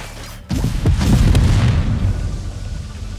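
Gunfire and explosions erupt as units open fire in the real-time strategy game Tempest Rising, a sudden loud boom followed by sustained rumbling blasts and crackling shots that slowly fade.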